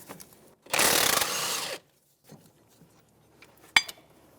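Socket and wrench working loose the lower strut bolts on a 2009-2014 Nissan Maxima: a dense second-long burst of metallic ratcheting and scraping, then quiet with a few faint clicks and one sharp metal tap near the end.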